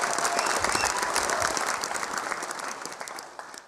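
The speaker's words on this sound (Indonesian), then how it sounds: "Tepuk tangan buat Basuki Cahayapurnama" A crowd applauds for Basuki Cahaya Purnama at a comedy show, a steady, dense wash of clapping that tapers off slightly toward the end.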